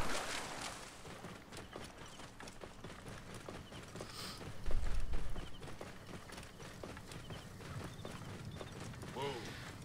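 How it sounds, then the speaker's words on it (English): Horses pulling a chariot through water in an Egypt-set game splash and thud with irregular clip-clop strikes and sloshing, peaking in a heavier surge midway, heard under a busy game backdrop. "Look, horses are swimming."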